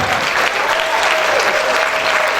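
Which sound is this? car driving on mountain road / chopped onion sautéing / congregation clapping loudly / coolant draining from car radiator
congregation clapping loudly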